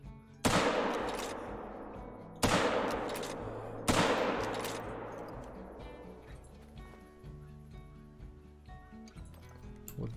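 Three loud, well-spaced gunshots in the hunting game Call of the Wild, each a sharp near blast followed by a long fading echo across open terrain, with faint ambient tones beneath.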